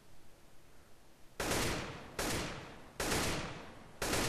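Gunfire in the first-person shooter CS:GO, casual mode: four loud, sharp broadband shots or short bursts spaced roughly a second apart, each decaying quickly, with faint background hum between them and no talking.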